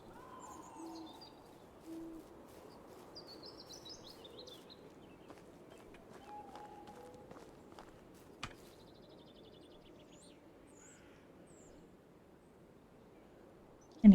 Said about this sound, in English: This one creepy sounding bird.